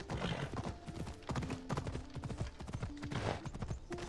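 A horse gallops in the video game Assassin's Creed Odyssey, rapid rhythmic hoofbeats clattering steadily and close for the whole stretch, with a faint whinny mixed in.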